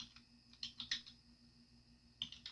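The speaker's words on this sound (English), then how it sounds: "you're going to type in the paragraph that's shown on step 5" A computer keyboard is typed on during a Word document demonstration, with faint scattered key clicks in small clusters over a low steady hum, no voice present.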